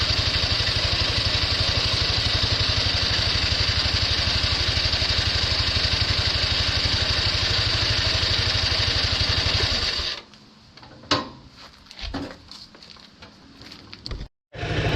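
An engine warming up idles with a steady, rhythmic pulsing for about ten seconds, then cuts out, leaving scattered clicks and handling noises.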